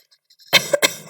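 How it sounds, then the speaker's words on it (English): A single sharp human cough, loud and close, with a brief lead-in breath and a short second burst, alone without talk. "That is a cough."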